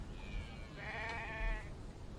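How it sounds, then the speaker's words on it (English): A sheep in The Infected survival game gives a single wavering bleat, moderately near, alone over quiet outdoor ambience. "So that's a sheep, for sure."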